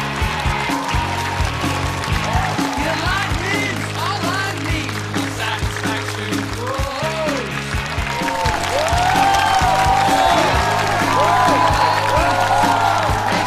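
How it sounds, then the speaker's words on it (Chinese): Applause from a studio audience at a televised Chinese roast comedy show, a dense steady patter of many hands clapping that swells louder toward the end. "掌聲歡迎一下。"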